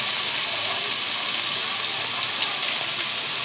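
Lote fish fry in a little oil, giving a loud, steady, close sizzle that fills the whole stretch without pause.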